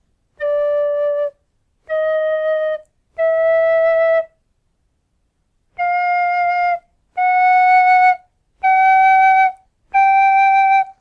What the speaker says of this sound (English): So I'll give you an example of how half holes look and sound.